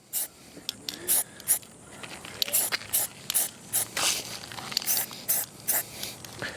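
Spray paint hisses in short repeated bursts around a PVC pipe boot on a shingled roof, each blast close and fairly loud, with no talking.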